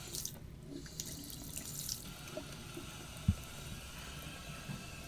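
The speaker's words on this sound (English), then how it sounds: "Run hot and cold water at the bathroom sink." Hot and cold water runs from a tap into a bathroom sink in an Iceland home, a steady hiss and splash with a brief clunk partway through.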